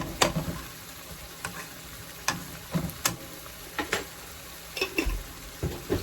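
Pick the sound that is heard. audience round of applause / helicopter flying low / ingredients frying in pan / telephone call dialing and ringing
ingredients frying in pan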